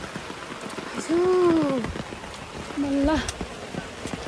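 Rain splashing on the ground makes a soft continuous patter in the background while a person speaks over it.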